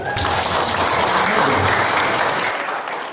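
An audience bursts into loud, steady applause during a talk, close and dense clapping that runs for about three seconds and then stops abruptly.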